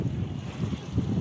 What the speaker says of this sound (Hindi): इसकी लहरें बहुत तेज़ी से आ रही हैं और जा रही हैं